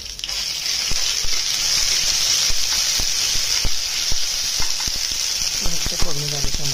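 Ginger garlic paste fries in hot oil in a pan with a steady bright sizzle, with soft clicks of stirring and a short clatter near the end, loud and close with no talking.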